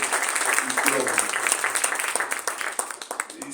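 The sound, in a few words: audience applause at book presentation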